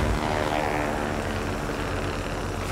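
A Zero fighter aircraft in the game World of Warplanes, a dense, steady propeller engine drone filling the whole moment, loud and unbroken, with faint voice underneath.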